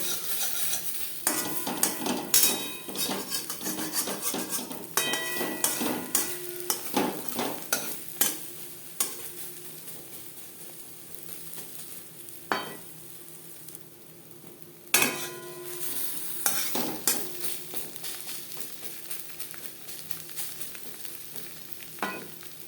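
Egg omelette cooking in a pan and being folded, with repeated spatula scrapes and metallic clanks over a background sizzle, close and fairly loud, with quieter stretches between strokes.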